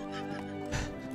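A horse pulling a carriage whinnies briefly amid dense background sound, with a short, moderately loud neigh rising in the middle.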